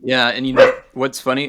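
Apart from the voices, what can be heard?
dog barking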